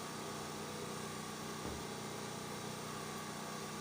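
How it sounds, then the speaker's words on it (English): A power generator drones steadily nearby, a dense continuous hum with buzzy overtones and one brief dip, filling the clip with no speech over it. "Please do not mind the sound of the generator."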